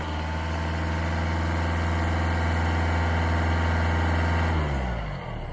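A car engine runs at raised RPM during a battery ripple test with a Kingbolen BM580 analyzer, holding a steady, even drone before the pitch shifts and settles near the end.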